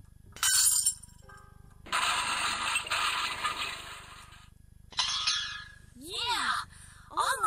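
Glass breaking and clinking in the video game Edna & Harvey: The Breakout, several bursts of shattering and tinkling spread across the stretch, with sharp chiming pieces near the end.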